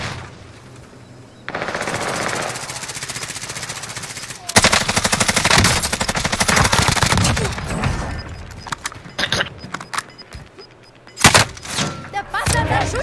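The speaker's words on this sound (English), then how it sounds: "The bastards are shooting at me." Loud, dense automatic gunfire in Call of Duty Warzone, with sustained bursts broken by sharper single shots and impacts, continuing almost without pause.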